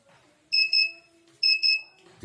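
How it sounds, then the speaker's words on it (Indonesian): An electronic buzzer on a NodeMCU ESP8266 circuit, triggered by a hand moving close, beeps in two short bursts, each a quick double pulse, shrill and close, with a faint hum between them. "Nah, buzzer dan LED akan berbunyi."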